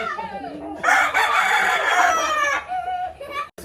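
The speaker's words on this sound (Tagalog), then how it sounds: "Ang dami niyang manok, guys." Chickens and a rooster at a rural family home in the Philippine countryside, with a loud crow rising over steady clucking from a large flock, close by and filling most of the few seconds.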